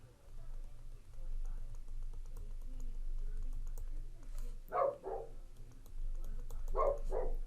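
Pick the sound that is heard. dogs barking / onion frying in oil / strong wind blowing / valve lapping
dogs barking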